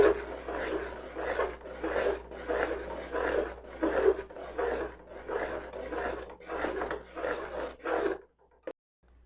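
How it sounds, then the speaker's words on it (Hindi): A spoon scrapes steadily around a pan of aloe vera halwa cooking over a low flame, a close rasping rub repeated in an even rhythm for about eight seconds, then a few faint clinks before it stops. "यहाँ हम स्पून को मुसलसल चलाते रहेंगे"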